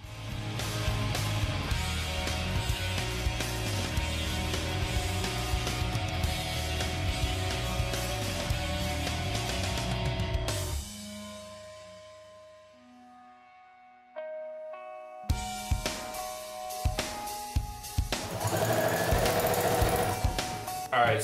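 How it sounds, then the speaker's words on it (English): A sewing machine stitches pockets onto boxer shorts with a steady, rhythmic mechanical chatter for about half the clip, then stops. Quieter clicks and handling noises follow before louder clattering returns. "So yeah, time to get to sewing the pockets."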